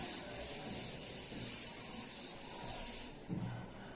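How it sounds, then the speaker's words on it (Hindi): Writing is rubbed off a board in a Class II maths lesson, giving a steady, soft, raspy scrubbing in repeated strokes that ends with a brief bump. "Now will rub this."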